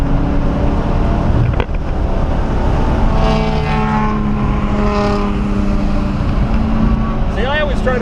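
A BMW engine pulls hard on the Mosport race track, a loud steady in-car drone with rising and shifting engine tones as the car accelerates, heard continuously throughout.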